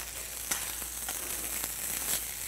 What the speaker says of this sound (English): what we're trying to do here is just get some nice sear on the outside of the fish.